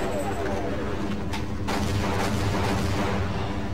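Gunfire from soldiers in the Half-Life shooter, a dense barrage of shots and booming blasts running continuously at steady loudness under game ambience.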